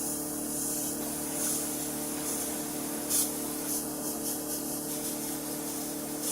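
Compressed-air spray gun applying paint, a steady broad hiss running throughout at moderate level with slight swells, heard alone without talk.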